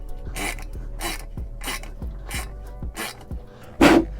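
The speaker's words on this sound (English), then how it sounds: "Now I'm gonna continue on with the ratchet." Ratchet wrench turning a fitting while relocating a brake booster hose on an RBC intake manifold in a K-swapped EM2 Civic; six evenly spaced raspy clicking strokes, close and steady, ending in a louder burst.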